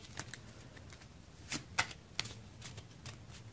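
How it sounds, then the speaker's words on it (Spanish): Playing cards riffle and snap during a magic trick, a few short crisp bursts of shuffling spaced unevenly over quiet background, close and fairly soft. "lo voy a barajar otro un poquito"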